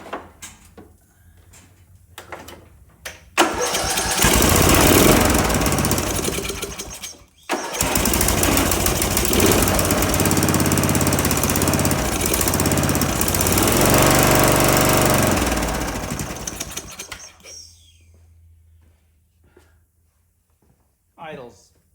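A Craftsman all-wheel-steer lawn tractor, a cheap secondhand machine, cranks in short bursts, catches and runs loudly, briefly cuts out, then roars steadily before shutting off. The engine is slightly starved of idle fuel.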